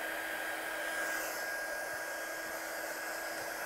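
Heat drying tool blows steadily over a handmade Christmas card, a continuous loud whooshing whir with a thin whine, unchanging throughout and with no talking.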